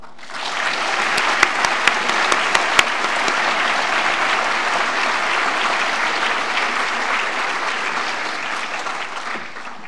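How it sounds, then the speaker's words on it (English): An audience at a talk celebrating 20 years of exoplanet discoveries applauds loudly for the speakers, dense sustained clapping with a few sharp near claps early on, fading slightly at the end. "Please join me in a round of applause for Alan Boss, Natalie Batalha, and Paul Butler."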